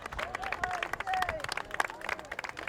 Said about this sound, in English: Jake Dernier, huge standing ovation from the crowd